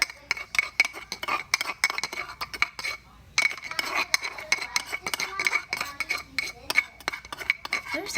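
Utensils clink and scrape against a dish while a shallot and garlic mixture is scooped onto yellow pompano for caramelized fish (ca kho). The knocks come in quick, irregular bursts, close and moderately loud, with a short pause partway through.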